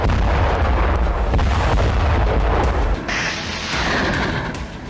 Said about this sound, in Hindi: डोनेस्क में रूसी सेना ने एमएलआरएस से इस तरह विध्वंसक प्रहार किया